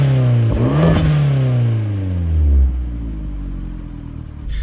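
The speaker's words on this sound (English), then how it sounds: "it has a full turbo back exhaust with the mufflered version of the new speed axle back, which actually keeps the tones pretty quiet" A modified big-turbo Fiat 500 Abarth with a mufflered turbo-back exhaust revs up twice, climbing and falling back to idle in between. The tone is fairly subdued and close by, with no talking.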